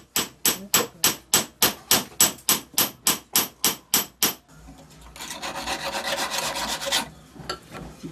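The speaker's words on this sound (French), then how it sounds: "C'est un petit burin. Et il fait les dents." About fifteen sharp, evenly spaced metal strikes ring out in quick rhythm as a small chisel cuts teeth into a saw blade made from tire steel, followed by a few seconds of harsh scraping or filing on metal.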